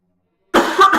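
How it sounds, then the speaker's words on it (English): A single close, loud cough bursts out after a silent moment, a rough double hack with no talking around it. "Excuse my coughing"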